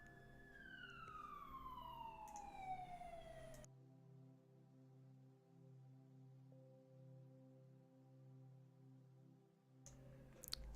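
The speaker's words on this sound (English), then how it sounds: "Just wanted to let the sirens go past." Emergency vehicle sirens pass along a street outside, a falling wail heard faintly at first, then a low pulsing drone, with a brief siren burst again at the very end and no one speaking.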